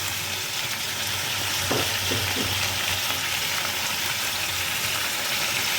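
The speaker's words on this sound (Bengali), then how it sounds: "এখন আমি এর ভিতরে প্রথমে দিয়ে দিচ্ছি কাঁচামরিচ" Green chillies hit hot oil in a pan while a Bangladeshi eel curry is being cooked, giving a steady, close, hissing sizzle that runs unbroken, with a few faint utensil knocks partway through.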